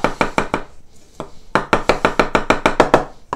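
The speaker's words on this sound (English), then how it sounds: "you can do lots of chopping." A chef's knife chops herbs on a cutting board in quick, even, close taps, with a short pause partway before the steady rhythm resumes.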